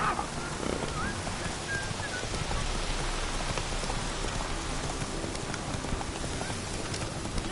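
Steady, dense rain pours down across a Witcher 3: The Wild Hunt game scene, a constant broadband hiss of drops on surfaces with faint hoof-like clopping mixed in, with no talking.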